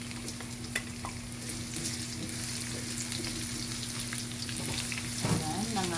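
Onions sizzling and frying steadily in a pan for porkchop steak, with a continuous close crackle and a few stirring scrapes, no talking.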